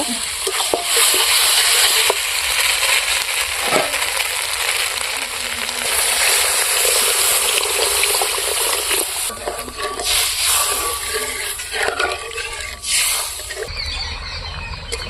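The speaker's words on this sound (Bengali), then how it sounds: "আমি এখন ঝোলের জন্য জল দেব" Water is poured over potatoes fried in spices, starting the gravy for a rohu fish curry with broad beans. A loud, continuous sizzle with some stirring and scraping runs throughout, alone.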